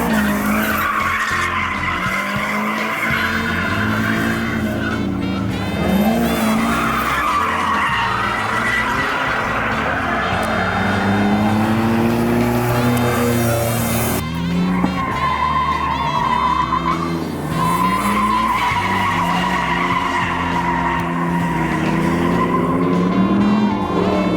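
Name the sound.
drift cars skidding at an all-ladies drift event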